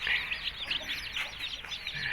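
Newly hatched chicks chirp in a busy, continuous chorus of high-pitched peeps, close and fairly faint, with no talking.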